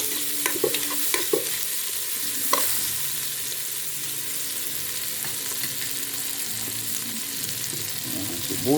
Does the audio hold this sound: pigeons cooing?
no